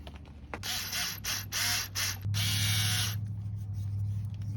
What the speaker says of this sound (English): Then we're going to go ahead and put the screws back in.